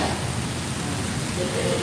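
Heavy rain pours down in Hyderabad over a flooded, traffic-jammed road, a dense, even hiss of steady downpour close by.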